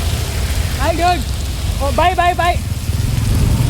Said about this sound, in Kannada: ನೋಡಿದ್ರೆ ಮಳೆ ಅರ್ಧಂಬರ್ಧ ಬರ್ತೈತೆ